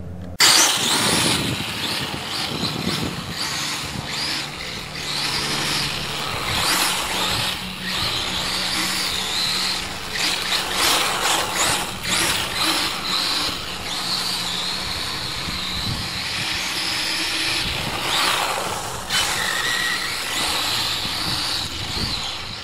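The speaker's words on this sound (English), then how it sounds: "I'm going to run it around so you guys can see what basically this new motor and ESC combo is" A Kyosho DRX VE Subaru rally RC car with a Castle Creations Mamba Max Pro motor and ESC, about 2400 kV, running around a baseball field, its electric whine rising and falling steadily through the whole stretch with no talk.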